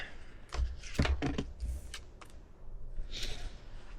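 Someone types a number on a computer keyboard, a handful of close, crisp key taps in a quick irregular burst, followed by a few scattered clicks.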